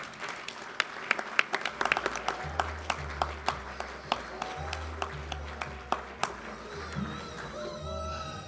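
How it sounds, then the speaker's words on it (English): Audience applauding at a 2023 hall of fame induction ceremony, with distinct claps ringing out through a hall, the clapping continuing steadily and then thinning out toward the end. "Could you please give a warm round of applause to my friend, Peter J. Danielczuk."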